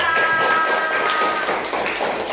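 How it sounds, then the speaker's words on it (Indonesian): A class applauds a student group after their presentation, a steady wash of many hands clapping together that fills the short moment. "beri aplaus kepada kelompok 2"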